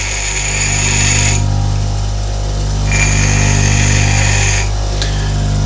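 A large drill bit is ground freehand on a bench grinding wheel, a steady motor hum under bursts of harsh high grinding that come and go as the bit touches the wheel.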